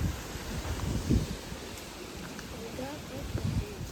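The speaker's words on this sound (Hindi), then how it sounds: "गाइस देखिए अभी ठंडी ठंडी हवा चलने लगी है" Cool wind blows outdoors in hilly Uttarakhand, a steady broadband gusting rush with some rustling, faint chirps in the background and a few soft knocks and handling noises.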